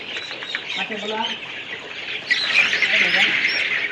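Young Fayoumi chicks in a poultry-rearing setting chirp and cheep constantly at close range, a dense shrill chorus with louder squawks rising near the end, while a person talks among them.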